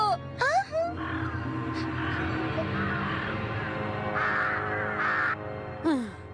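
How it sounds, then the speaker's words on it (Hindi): Several harsh crow caws ring out in short bursts, fairly close, with a few rising and falling calls between them over a low background hum. "ये बताओ, वो कौवे क्या कर रहे हैं?"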